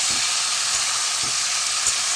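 Cauliflower stems and other vegetables frying in hot oil with panch phoron, a dense, even hiss of sizzling close by with a few soft stirring knocks, no voices over it.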